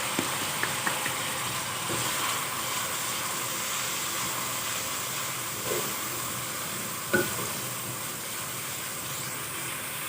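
Whole coriander seeds crackle and sizzle in hot oil in a home kitchen. A continuous frying hiss carries a few faint clicks and light stirring knocks, with no one speaking.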